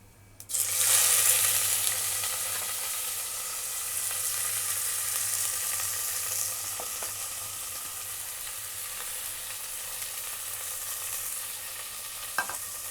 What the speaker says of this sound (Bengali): এবার ওর মধ্যে আমি কুচনো পেঁয়াজটা দিয়ে দিচ্ছি